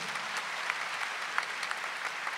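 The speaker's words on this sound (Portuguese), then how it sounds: "Dá uma salva de palmas para João Paulo II." An audience claps in sustained applause for Pope John Paul II, a dense even patter of many hands with no voices over it.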